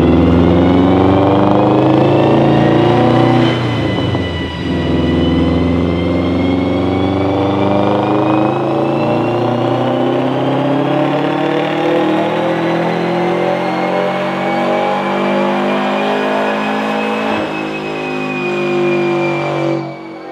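Subaru WRX engine revving hard on a dyno: a loud, sustained droning roar that climbs and holds at high revs for about twenty seconds, with a brief dip early on and another near the end.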